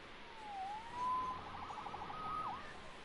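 A wailing police siren from the video game Marvel's Spider-Man rises and falls at a distance, steady over a faint background hum, with no talking.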